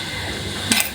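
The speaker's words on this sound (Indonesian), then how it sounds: "bunyi sendok sama jar gelas saya ya teman-teman ya." A metal spoon taps a glass jar once, a short, bright clink near the end against a low, steady room hiss.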